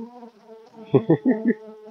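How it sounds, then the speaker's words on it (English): A honeybee buzzes right at the microphone during hive work, a close, loud, pulsing drone with a few sharp swells in pitch and volume. "I don't suppose anybody can hear a thing apart from this bee"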